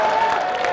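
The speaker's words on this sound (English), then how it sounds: "every time India touch the ball or break away, they're up out of their seats and cheering" Boisterous Indian crowd applauding and cheering at a field hockey match against Australia, a dense, loud wash of clapping and voices for a brief moment.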